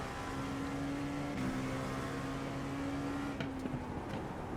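An LMP2 race car in a racing video game carries a steady engine drone as it trail brakes into a corner at Nürburgring GP. The pitch holds fairly constant, dips slightly, and a few faint clicks sit on top.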